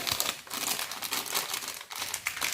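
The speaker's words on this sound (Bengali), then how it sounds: "আরও সুজির প্যাকেটগুলো কেটে দিচ্ছি" Plastic semolina packet being cut and torn open by hand, a steady crinkling and rustling of thin film up close, with brief pauses between bursts.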